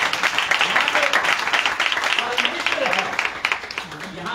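Congregation clapping during a roadside Christian prayer service in Ludhiana, a continuous busy patter of many hands under a preacher's voice speaking over it.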